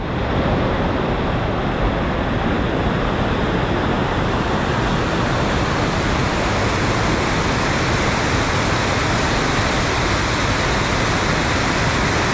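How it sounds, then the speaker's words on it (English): Tramway Falls in a valley, heard from a distance as a steady, loud roar of rushing water that stays constant throughout. "Certainly sounds like there's an impressive amount of water coming down."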